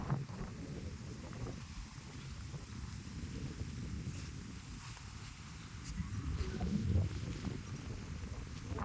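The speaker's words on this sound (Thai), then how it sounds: "ลมแรงมาก" Strong wind gusts buffet a tent at a mountain campsite at Khao Kho in cold weather, a continuous roaring rumble with microphone buffeting that swells louder near the end, no talking.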